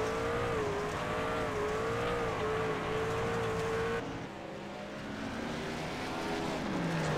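Race trucks roar past on the Eldora dirt track during a truck series race, with loud sustained engine drone that shifts in pitch as a truck flies by. It is followed by a further engine note and rising revs.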